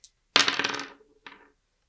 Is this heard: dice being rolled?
yes